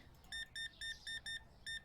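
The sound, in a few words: checkout scanner beeping in Supermarket Simulator video game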